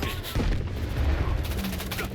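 Grenades burst in a S.T.A.L.K.E.R. 2 firefight, a dense run of loud booms and cracks layered over steady rumbling background noise.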